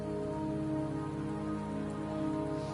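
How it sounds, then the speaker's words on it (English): Steady rain falling in the Wuthering Waves video game, a continuous even hiss of drops on surfaces that holds at a constant level throughout, with a faint tonal background underneath and no voices. "Don't worry, the rain won't last much longer."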